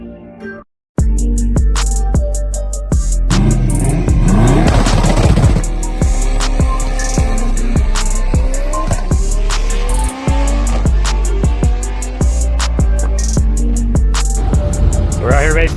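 Dodge Viper drag racing at a drag strip: a loud, close engine roar with repeated sharp pops and bangs and rising revs, continuous throughout, with a brief dropout near the start.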